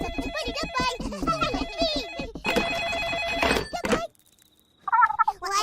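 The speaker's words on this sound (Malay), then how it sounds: "Telefon." A telephone rings in a Malaysian animated home scene, its tones sounding amid busy cartoon voices and music before a brief quiet gap, then talk resumes.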